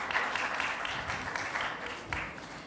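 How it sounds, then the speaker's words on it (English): Modest applause at a hospital stroke symposium honoring neurosurgeons, a fairly faint patter of scattered clapping from the audience hall. "Can we have a huge round of applause for all of them?"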